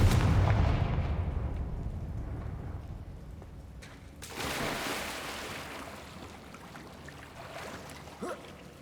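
A Confringo blasting spell from the video game Hogwarts Legacy goes off with a loud, booming burst, followed by a rumbling echo and a second fiery blast a few seconds later.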